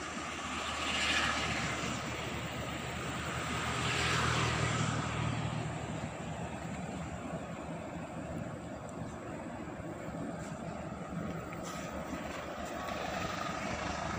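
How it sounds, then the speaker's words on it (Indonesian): CC201 diesel locomotive drawing near on the curve at Cirahong, a broad low rumble that swells and ebbs in two waves before settling into a continuous, moderately distant drone. "Gemuruh lokomotif sudah"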